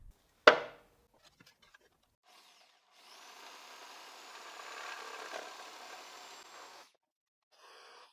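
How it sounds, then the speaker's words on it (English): A jigsaw cuts through wood scraps in a workshop, one sustained buzzing run of about four seconds after a sharp knock and faint handling clicks, with a brief restart at the end. "The cut will be finalized using the jigsaw."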